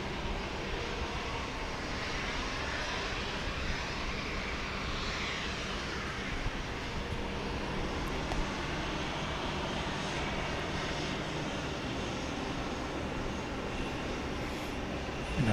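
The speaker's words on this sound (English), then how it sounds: "737 departure. here goes the flight to Midway" Boeing 737 departing Dallas Love Field at night, a loud, steady jet engine roar filling the whole stretch with broad rumbling noise that holds constant without letting up.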